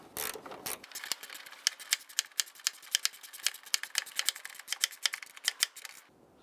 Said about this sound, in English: Going to tighten down our fender well bolts first.